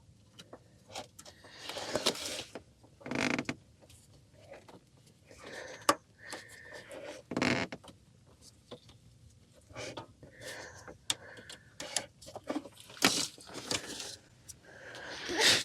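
Hoses being pulled off the plastic air box of a 2010-2012 Ford Escape, giving scattered clicks, rubbery pops and scrapes close by, with irregular handling noises and short bursts and no talking.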